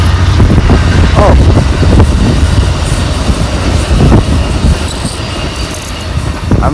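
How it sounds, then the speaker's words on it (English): A train rolls past close by outdoors on a windy day, a loud steady rumble with wheel squeals and rhythmic clatter throughout. "And there's another train."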